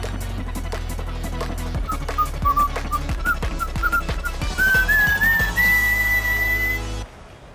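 A person whistles a cheerful tune solo, a melodic line of clear rising and falling notes over a steady rhythmic backing beat, ending abruptly.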